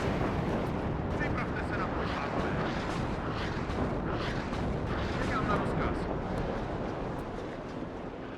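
Artillery fire in the WARNO real-time strategy game sounds as a dense, continuous rumble of distant blasts and battlefield noise, with a voice talking over it for most of the stretch.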